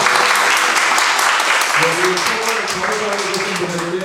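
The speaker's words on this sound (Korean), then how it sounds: "박수 한번 하겠습니다." A church congregation breaks into applause, loud dense clapping that carries on while a voice sings or speaks over the top in the second half.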